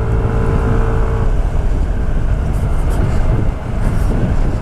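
Yamaha NMAX scooter ridden on the road, a steady loud engine drone mixed with wind rumble, continuous throughout with a brief dip near the end and no talking.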